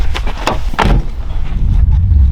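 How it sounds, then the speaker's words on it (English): Car doors slamming shut during an outdoor night search for Sasquatch in Southern California, a few sharp thuds close by in quick succession against steady background rumble. "Don't slam the doors too hard."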